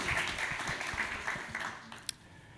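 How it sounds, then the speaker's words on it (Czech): An audience at a talk gives brief applause that thins out and fades, ending in a few scattered claps. "prosím o potlesk"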